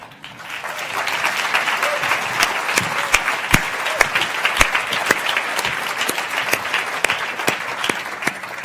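An audience at a science-communication competition final breaks into sustained applause, a dense wash of many hands clapping with a few louder individual claps standing out across the whole stretch.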